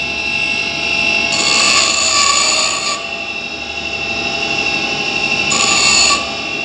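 A valve face is pressed against the grinding wheel of a valve refacing machine to strip away metal and carbon deposits, giving two loud bursts of high, gritty grinding over a constant mechanical whir, with no talk.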